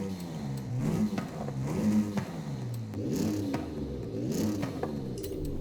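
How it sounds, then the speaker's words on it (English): Engine and exhaust of a GMC Typhoon truck in Forza Horizon 5 rise and fall through repeated revs and gear changes, a moderate mid-pitched drone heard alone without talk. "Or what's the exhaust sound like?"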